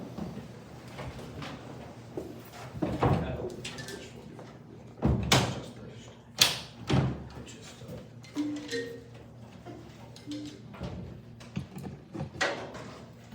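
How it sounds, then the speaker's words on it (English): Meeting-room door being opened and closed, with several sharp thumps and clacks spread across the clip amid background chatter and people talking nearby. "You need somebody to hold the door."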